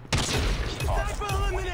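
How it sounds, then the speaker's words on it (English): Gunfire in a Call of Duty Mobile team deathmatch: a sharp crack opens the clip, then an echoing battle-noise tail follows, with someone talking over it. "Who's sniping at me?"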